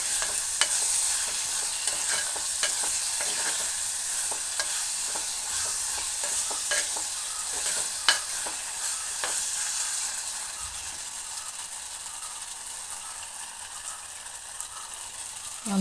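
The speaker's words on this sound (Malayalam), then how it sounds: "നന്നായിട്ടൊന്ന് വഴറ്റിയെടുക്കണം. മുളക് പൊടിയുടെ പച്ച ചുവയൊക്കെ പോകണം." Tomato and chili powder sautéing in a pan make a continuous sizzle, with frequent utensil scrapes and clicks from steady stirring that ease slightly toward the end.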